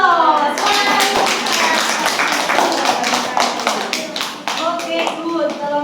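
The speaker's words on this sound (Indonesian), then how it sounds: "Beri aplaus." A classroom audience applauds after a group presentation, a dense burst of many hands clapping that carries on steadily for several seconds, with voices mixed in.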